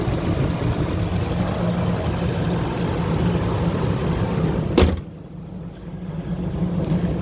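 A 2002 Ford F150 SuperCrew Lariat FX4 4x4 idles steadily at close range, a low, even engine hum that dips briefly near the end.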